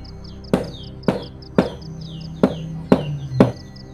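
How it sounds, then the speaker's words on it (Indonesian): Six sharp knocks on a window ring out one by one at roughly half-second intervals, loud and close, with faint bird chirps in the quiet background. "Kali ini disertai dengan suara ketukan di jendela"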